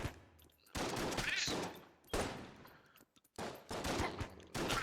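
Shotgun blasts and rapid gunfire in the video game Enter the Gungeon, dense bursts of shots in several clusters separated by short gaps, moderately loud with no talk over them.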